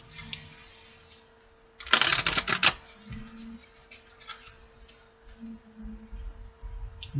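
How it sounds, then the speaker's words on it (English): A deck of oracle cards is shuffled once in a quick, close riffle burst lasting under a second, with soft handling rustles and taps around it. "One more shuffle."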